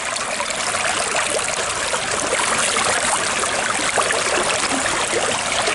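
Water rushes and splashes continuously through a sluice in a river, a steady turbulent flow with no speech.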